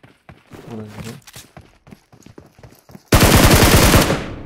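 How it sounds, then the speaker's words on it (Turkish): Gunfire in the mobile game PUBG Mobile erupts as a sudden loud, rapid automatic burst after a stretch of quieter footsteps and shuffling. "uzaktan bir atış geliyor"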